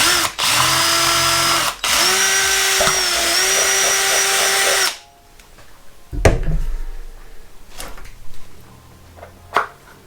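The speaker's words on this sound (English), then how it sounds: "I'm gonna just get like a 4mm drill bit or something and make this a bit bigger." A power drill with a 4mm bit whines loudly at high speed for about five seconds, enlarging a hole in a Grainfather brewing unit, with a brief pause and pitch shifts, then stops, followed by faint handling knocks and clatter.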